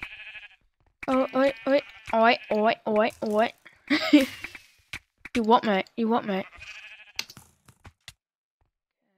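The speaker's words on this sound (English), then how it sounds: "Alright, we got this sheep." Sheep in the game Minecraft, on the Mineplex server, bleat in a quick run of repeated calls, clear and close, with someone talking over and between them.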